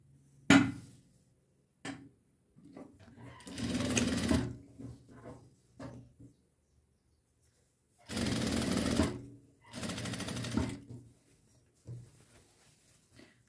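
Sewing machine stitching the neckline of a child's dress with elastic shirring at the back, several separate runs of fast mechanical stitching, two long bursts later, with quiet pauses and small handling clicks between.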